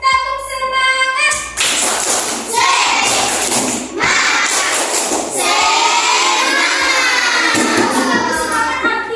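A class of children claps a rhythmic 'tepuk semangat' chant together, with sharp, loud clap bursts and voices chanting in a lively, steady pattern.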